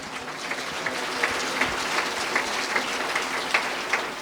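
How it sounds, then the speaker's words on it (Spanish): A congregation claps at a church service, the sound steady and fairly quiet, with a faint distance, lasting the whole stretch and carrying a loose rhythmic pulse. "así que fuerte aplausos, aleluya"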